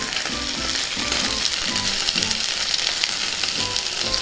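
Cut taro root pieces fry loudly in hot oil, salted and stirred, a dense continuous sizzle close up with faint scraping of the stirring spoon underneath and no voices.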